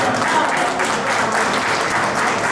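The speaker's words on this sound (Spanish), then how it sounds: "fuerte los aplausos" Guests at a baptism celebration clap in a steady, dense burst of applause that holds at an even level throughout, with some faint voices underneath.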